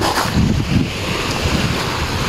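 Waves and wind along the seashore at Barangay Malubago, Cataingan, Masbate, a rough, continuous rush of surf with heavy wind buffeting the microphone, loud and close, with no voices.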